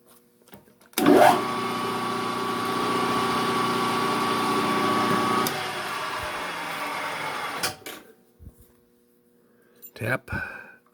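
Metal being drilled on a small lathe, a part for a Stirling-engine model helicopter: a steady loud whirring grind for about four seconds that then fades into lighter machine noise and scattered clicks.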